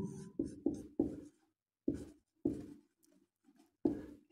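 Marker or chalk strokes on a classroom board, a series of short, separate scratchy bursts with pauses between them.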